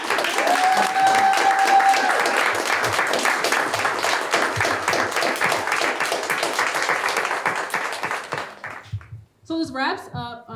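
Sustained applause from the audience at a panel discussion on freedom of expression, a thick crowd of claps that gradually thins over about eight seconds before a voice begins speaking at the end.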